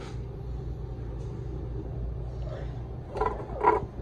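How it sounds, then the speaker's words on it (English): A faulty motor on an Electro Freeze machine runs with a low, steady rumbling hum, joined near the end by two brief louder bursts of sound. "That's a bad motor."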